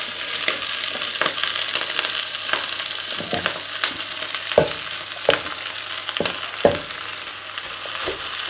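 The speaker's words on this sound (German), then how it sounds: "Und auf unsere angeschmorten Zwiebeln geben wir dann unseren Schwarzkohl." Black kale drops onto braised onions in a stew pot, setting off a steady sizzle with intermittent sharp stirring knocks and scrapes, a few louder clacks near the middle, and no speech.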